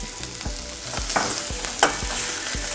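Okra and onions sizzle and crackle in a hot pan, with a steady frying hiss broken by regular scraping strokes of a stirring spoon, close and moderately loud, with no voices.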